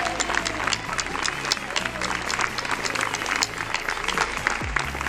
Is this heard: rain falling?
no